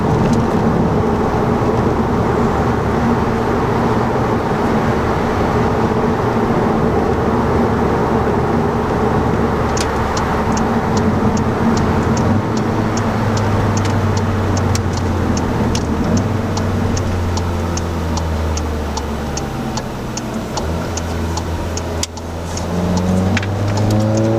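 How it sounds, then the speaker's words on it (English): Inside the cabin of a VW Golf GTI Clubsport with its resonator deleted, a steady engine drone rises and falls with revs, with a faint ticking in places, loud and close with no talk. "The burble and the crackle on overrun is amazing. It's really nice. You can actually hear it inside the car now"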